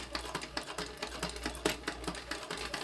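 A sewing machine stitches across the bottom of a tote bag with a 3/8 inch seam allowance, giving a steady, fairly quiet run of rapid mechanical clatter with a low motor hum and no talking.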